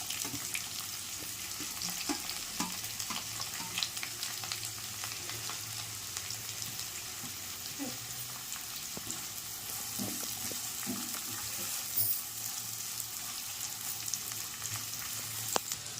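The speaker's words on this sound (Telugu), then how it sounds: "ఉల్లిపాయలు త్వరగా ఎగడానికి సాల్ట్ వేసుకుంటున్నాము" Onions and green chillies fry with salt in a pan for catering-style fry piece biryani, a steady soft sizzle running throughout, punctuated by occasional light scrapes and taps of stirring, fairly quiet and without voices.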